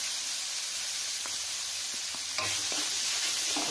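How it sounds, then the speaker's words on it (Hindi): Garam masala roasting in a pan for tomato pulao, a steady loud sizzle and hiss running throughout with a few soft scrapes of a spoon stirring, close up and with no voices. "अच्छे से इसको चलाते हैं मसाला बहुत बढ़िया तरीके से भून गया है"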